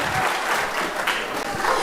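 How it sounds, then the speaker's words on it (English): Steady applause from a school spring choir concert audience, dense and continuous clapping filling the room for about two seconds with no pauses. "So round of applause for all of our contest people."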